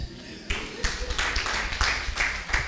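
Clapping in a Rwandan gathering, a series of sharp hand claps in uneven rhythm, close and fairly loud, with voices murmuring beneath.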